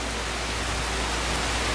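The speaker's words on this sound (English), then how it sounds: "between the air conditioner running and all the rain right behind the camera" Steady, dense rain hisses just outside an open garage door, with an air conditioner running alongside, a continuous even wash of noise with no talk.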